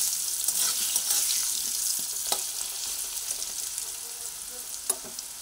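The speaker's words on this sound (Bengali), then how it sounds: "হলুদ গুঁড়ো দিয়ে আলুটাকে ভেজে নিচ্ছি" Potatoes frying with turmeric powder in a pan, a bright steady hiss of hot oil with a few sharp clicks and scrapes of stirring, close and continuous.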